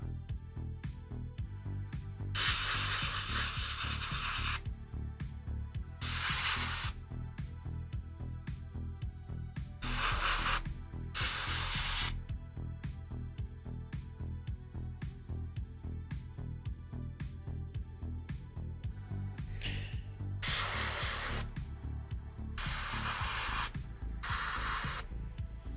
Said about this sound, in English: So the airbrush seems to be working fairly well